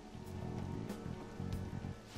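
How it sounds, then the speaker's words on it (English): Steady rain falls in the video game Persona 5 Royal, a continuous hiss of drops with a low musical hum underneath, moderate and unbroken. "This rain ain't too bad."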